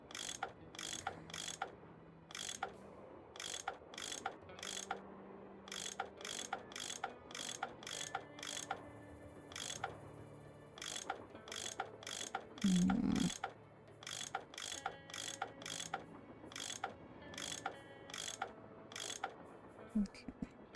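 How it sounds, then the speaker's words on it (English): Repeated mechanical ratcheting clicks in a video game as bolts are unscrewed and turn one another. The bursts come in steady, evenly spaced runs over a faint low hum, with one louder clunk midway. "I bet that's what you use to unscrew these bolts. Oh, they turn each other."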